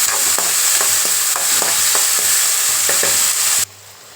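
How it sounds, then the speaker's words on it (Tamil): Onions and tomatoes fry in hot oil with a constant sizzle, punctuated by regular scraping taps of a spoon stirring the pan, then it cuts off. "வெங்காயம் தக்காளி நல்லா வதங்கிட்டேங்க"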